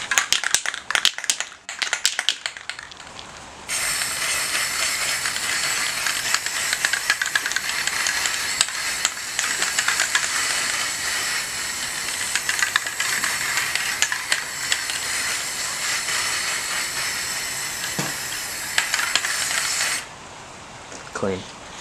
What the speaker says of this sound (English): a little spray can action.